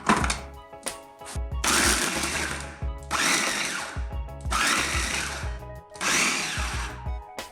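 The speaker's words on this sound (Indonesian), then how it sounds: "blender sampai agak halus." An electric food chopper whirs in four loud bursts of a few seconds each, separated by brief pauses and clunks as it chops meat and sausage until fairly fine.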